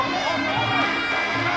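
A crowd at a Thai Fight League Muay Thai bout roars and screams in a dense, continuous wall of voices, loud and close throughout the short burst.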